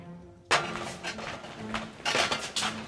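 Metal dishes and utensils clank and clatter as they are handled in a household kitchen, an abrupt loud clang followed by several irregular close rattles and knocks, with no voices.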